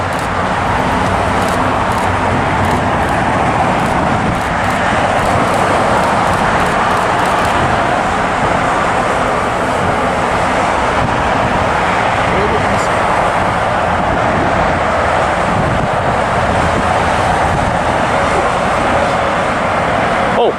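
A China Southern Airbus A380 taxis toward the terminal at LAX. Its engines give a loud, steady rumble and whine that holds for the whole stretch, with wind and traffic noise around it.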